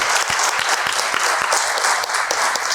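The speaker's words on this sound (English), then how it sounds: "Let's give a big round of applause to all the organizations." Dense, steady applause from a large congress audience filling a room of a couple hundred people, continuous clapping throughout with no voices standing out.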